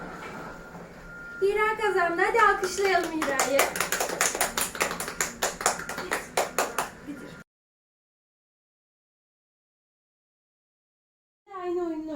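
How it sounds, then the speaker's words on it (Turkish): Preschool children clapping in a classroom game, a burst of roughly a dozen quick sharp claps in a steady rhythm, close and loud, with a child's sing-song voice talking over the start, then silence before talk resumes. "Alkışlayalım hadi"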